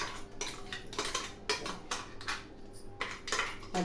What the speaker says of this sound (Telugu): దీన్ని ఇప్పుడు అన్నంలో కలిపేసుకుందాం